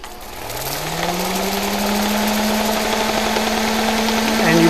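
Cherry burl spinning in reverse on a wood lathe while 150-grit sandpaper is pressed against it, a steady loud whirring drone with a rising motor hum at the start and constant rasping hiss throughout.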